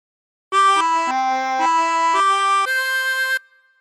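Chromatic harmonica playing an opening phrase of the Star Spangled Banner, six clear sustained reedy notes stepping down then up, played alone and close.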